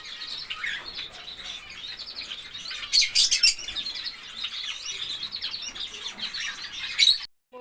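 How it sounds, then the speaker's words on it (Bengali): A flock of pet birds chirping and tweeting continuously while they eat cooked rice, a busy near chorus with a few louder bursts and brief wing flutters, with no talk. "পাখিগুলো সবাই খাচ্ছে এখন।"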